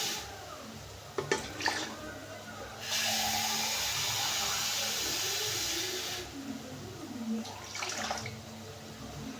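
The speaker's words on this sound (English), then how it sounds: "I want to add water" Water poured into a pot of maize being cooked with salt, a steady rushing pour lasting a few seconds amid quieter kitchen clatter, close by.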